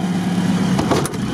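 A UAZ off-road vehicle's engine runs close by as the car is moved, a steady low rumble with a slight rise in revs over a brief stretch.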